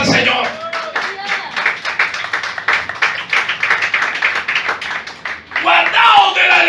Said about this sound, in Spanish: Denle una ofrenda de palmas al Señor